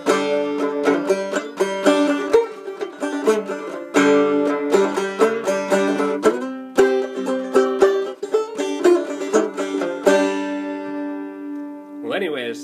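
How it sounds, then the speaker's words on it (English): A banjo plays an opening lick at full speed, bright plucked notes in a quick rolling run that rings out close and loud before ending on a sustained final chord, no voice over it. "when you play it at full speed, it's going to sound like this"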